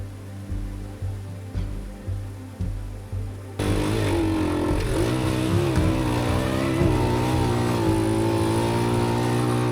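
A small Honda XL100 dual sport motorcycle idles with a low pulsing chug, then revs up and rides steadily along a slick trail, the engine holding a loud, continuous drone for the rest of the clip.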